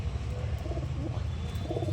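Pigeons in a Kolkata loft coo softly in low, rolling phrases over a steady background rumble, fairly close and without any talking.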